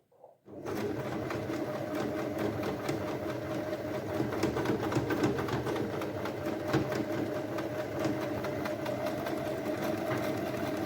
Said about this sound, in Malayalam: ഇവിടുന്ന് ഞാൻ ഇങ്ങനെ അടിച്ചെടുത്തതിന് ശേഷം നമ്മൾ ഈ സൈഡിൽ മടക്കി അടിക്കുന്നു